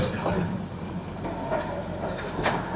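Narrow-gauge Himalayan toy train running through jungle near Gayabari, heard from aboard: a continuous rolling rumble with a few sharp clacks of wheels over rail joints at roughly one-second intervals.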